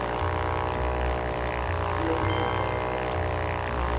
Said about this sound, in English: This plane is going everywhere.